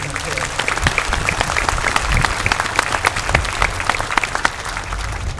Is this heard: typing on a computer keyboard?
no